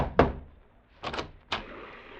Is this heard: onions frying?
no